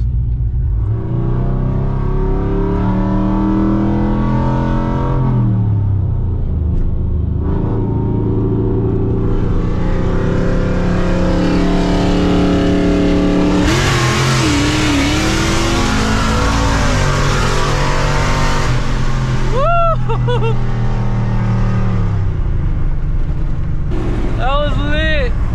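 A cammed Chevrolet LT V8 truck engine rumbles loudly up close and revs through rising, falling gear pulls, while several people chat over the steady engine roar.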